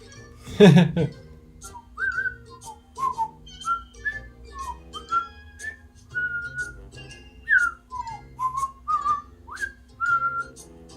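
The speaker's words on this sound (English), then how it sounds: "There's my whistling." A person whistles a meandering tune of short, clear notes close by, after a brief voice sound at the start.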